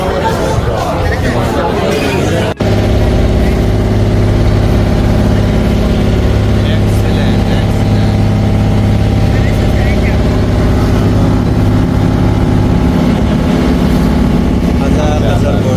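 A small motorbike rides uphill in the hills near Ha Long Bay, Vietnam. Its engine sets up a steady, loud drone that runs almost the whole time, and voices chatter over it.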